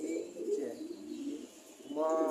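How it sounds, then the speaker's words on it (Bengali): A pet pigeon gives soft, low cooing, close and fairly quiet, with a brief higher chirp near the end. "আমাদের কবুতরটা"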